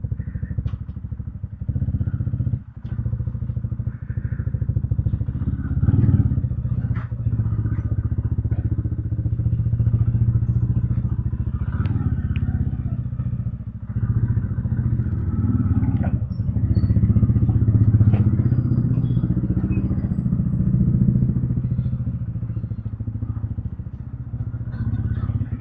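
A motorcycle rides along a road out of Old Manali, its engine a steady low rumble with occasional thumps and clatter from bumps, continuing for about twenty-five seconds.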